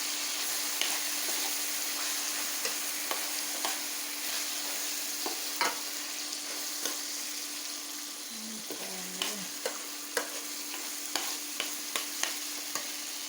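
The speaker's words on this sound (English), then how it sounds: "my rice is starting to toast, so I'm going to add back in my onions" Rice toasting in a pan with onions and garlic for Mexican arroz con pollo, a steady crackling sizzle punctuated by repeated sharp scrapes and taps of a spoon stirring, with a low hum underneath.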